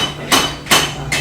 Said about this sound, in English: the smith here at the anvil is working on making a hacksaw frame, the actual frame that holds the blade